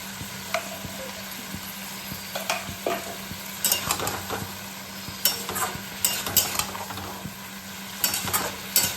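Banana flower curry sizzles steadily as ghee goes into the pan, with recurring spoon scrapes and stirring clatter over a constant frying hiss, close and moderately loud.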